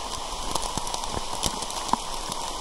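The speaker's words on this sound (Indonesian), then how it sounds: "Hujan turun lagi" Rain falling on a mountain trail on the way to Wae Rebo: steady dense patter with scattered sharper drops, close and continuous, no talking.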